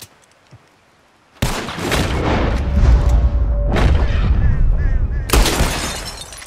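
Revolver shots at glass bottles in Red Dead Redemption 2 bring loud, sharp bangs with shattering crashes at intervals, then a sustained rumbling wash of noise between them.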